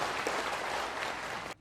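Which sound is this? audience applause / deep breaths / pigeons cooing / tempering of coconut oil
audience applause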